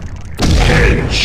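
A single heavy booming shot goes off in a fish hunting video game, a sudden loud low blast that lingers as a dense rumbling tail after a brief quiet start.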